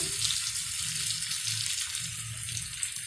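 A pea mixture with salt for Shegaon kachori filling is sautéed in a pan, giving a dense, steady, close hiss of frying with a low rumble underneath and no voices.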